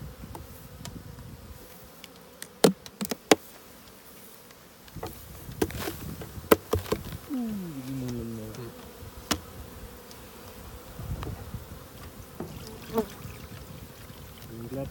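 Honeybees at a hive give a steady, faint buzzing drone with occasional louder passes of individual bees, while people talk quietly nearby during royal jelly extraction.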